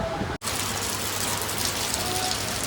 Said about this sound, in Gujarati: તડકો ને વરસાદ બે હારે